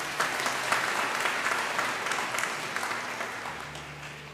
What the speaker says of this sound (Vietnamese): Một tràng pháo tay cho anh Kenny.